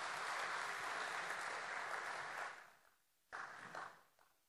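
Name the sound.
congregation applause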